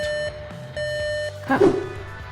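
Two bursts of rapid electronic beeping from an alert on an F2 robot, a high alarm-style tone pulsing in quick repeats, followed by a brief clatter.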